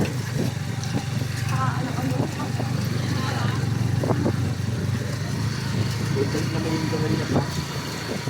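A motorcycle engine runs while riding over a rough, potholed road in Oriental Mindoro, a continuous mid-level hum with small jolts and people talking over it.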